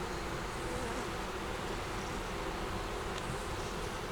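Continuous buzzing of many bees around an open frame from a double-deep five-frame hive holding honey, pollen and larvae, a steady dense hum with no pauses.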